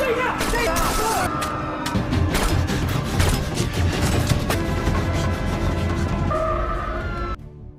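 Gunfire and impacts in a gangster mafia action film scene, a dense run of sharp bangs and crashes over a busy soundtrack, with talk mixed in and an abrupt stop near the end.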